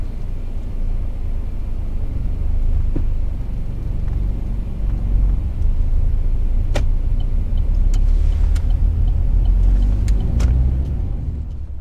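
A car pulling away at the close of a UK mock driving test, heard as a steady, loud low engine and road rumble running throughout, with a few faint clicks and no talk.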